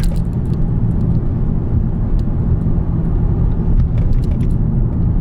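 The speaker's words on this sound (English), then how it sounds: "Like as you hear, it's like mad quiet in the car." An Infiniti G37 rolling on newly installed wheels gives a steady, subdued cabin rumble of road and engine noise that holds evenly throughout, with no voices.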